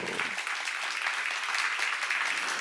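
Church congregation applause at a Korean Jesus-centered church seminar, a dense, steady wash of many hands clapping across the whole stretch, fairly close and even in level, with no talk over it.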